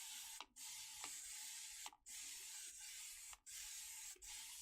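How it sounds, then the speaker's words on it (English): A handheld spray bottle mists water onto a chamois for stamping, giving five quick, close hissing bursts, each separated by the faint click of the trigger. "wet it a little bit more with my spray here."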